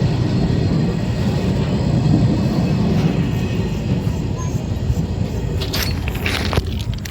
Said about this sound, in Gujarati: હવે રેલવે આવી ગઈ